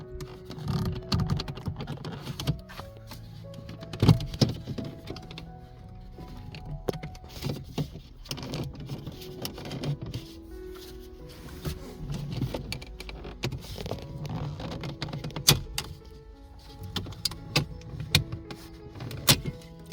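Plastic trim clips are pried off the speedometer surround of a Peugeot 208, a steady run of close clicks, snaps and rattling plastic with brief scraping between them.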